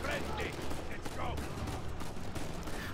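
Gunfire from the video game Uncharted 4: A Thief's End rattles in a dense, loud burst of continuous shots that runs throughout, with a voice mixed in underneath.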